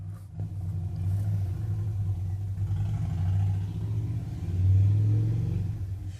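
A neighbour's car engine revs outside as a low, muffled rumble heard from indoors, swelling and easing over several seconds with no talking.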